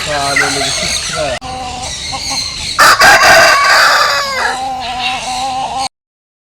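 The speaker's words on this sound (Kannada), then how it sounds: "ಇದು ಒಂದು ಹುಂಜ, ಇದು ಕೋಳಿ ಪ್ಲಸ್ ಹುಂಜ." A rooster in Coorg crows loudly and close by, its long strained call rising and falling, with other fowl clucking and squealing around it before it cuts off abruptly.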